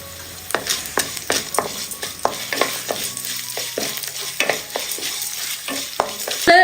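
Cumin and fennel seeds sizzle in hot oil in a pan while a spoon scrapes and stirs them in repeated close strokes, the frying crackle steady underneath.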